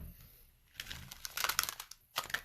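Crisp riffling and crackling bursts, like a deck of cards being shuffled up close, in two quick rounds after a quiet start.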